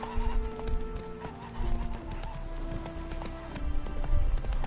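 Roach the horse from The Witcher 3 gallops with steady clip-clopping hooves and whinnies, a busy game soundscape with music and effects behind it.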